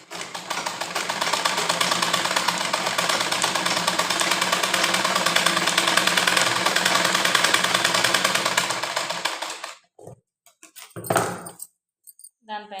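A sewing machine stitches a sleeve of blouse cloth made from saree fabric, running as a steady, continuous mechanical whir for about nine seconds before stopping abruptly, followed by a few brief clicks and handling noises.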